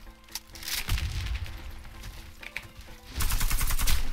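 Gunfire in the shooter game Warface, irregular bursts of shots with loud, booming impacts, heaviest at the end, amid background game noise.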